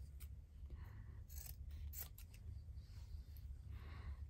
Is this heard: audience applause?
no